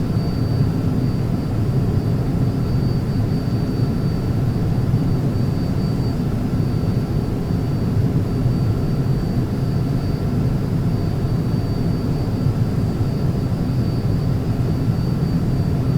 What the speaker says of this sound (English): this is a very nice aircraft. It flies really well.